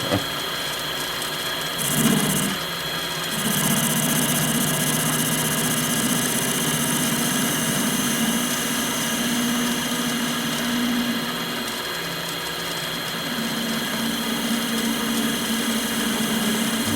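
Lathe turning a stainless steel spinning top with a carbide insert, steady mechanical hum with a harsh vibrating chatter from the cutting tool that swells and fades over the run, close and fairly loud, no talk.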